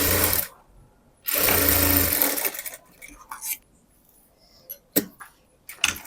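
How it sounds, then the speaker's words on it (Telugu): A sewing machine double-stitching a blouse runs in two loud bursts of steady motor whirring, then gives way to quieter clicks, taps and handling noises with brief pauses. "ఇలా డబల్ స్టిచ్ వేసేసుకోవాలి"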